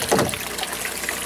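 Water gushes and splashes out of a homemade aquaponic tank holding baby tilapia, a close, continuous flowing rush with a brief louder surge at the start.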